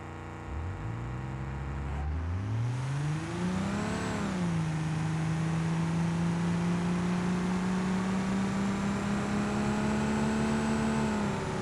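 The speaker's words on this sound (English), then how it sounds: "put it in first gear. I'm just gonna get it up to that light" A car in the BeamNG.drive video game accelerates hard in first gear, the engine note climbing steadily in pitch, dipping briefly, then holding a loud sustained high whine close up with no talk.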